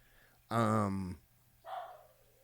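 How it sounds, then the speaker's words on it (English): Dogs barking in the background of a home, two separate bursts: one longer, strong bark-like call and then a shorter one, over a quiet room. "Dogs all in the background."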